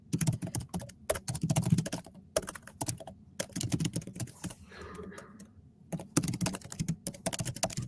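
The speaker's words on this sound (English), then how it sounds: "very fast typing" Fast typing on a computer keyboard, rapid irregular bursts of crisp key clicks close up, with short pauses between runs and no talking.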